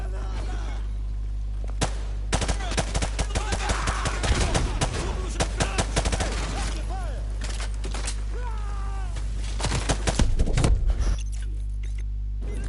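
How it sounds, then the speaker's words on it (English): Bursts of gunfire from the video game Call of Duty Modern Warfare 2, classic veteran campaign, crackling in repeated volleys over a constant game backdrop, with someone talking through much of it. "Who's shooting behind? Doesn't matter. Watch your fire."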